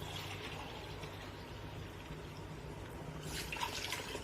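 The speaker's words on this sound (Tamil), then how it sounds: "இப்ப நம்ம பால் ஊற்றிக்கலாம்" Milk is poured into a pot of rice for chicken biryani, a faint, steady liquid pouring and trickling that grows slightly brighter toward the end, with no talk.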